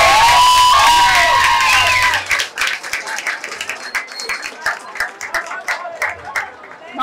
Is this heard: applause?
yes